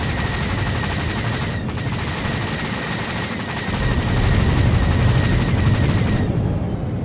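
Rapid starfighter laser gunfire in Star Wars: The Old Republic's Galactic Starfighter mode, a dense, continuous barrage of shots that swells louder toward the end over steady engine noise.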